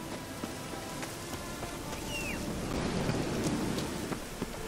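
Steady rain falls with low rolling thunder swelling underneath in the video game The Witcher 3: Wild Hunt, a continuous outdoor storm ambience with no voices.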